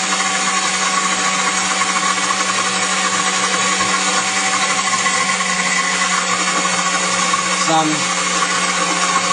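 A blender grinds walnuts and Brazil nuts into nut butter, a loud steady whirring motor drone that runs without pause, with a brief shift near the end, and a voice speaks briefly over it.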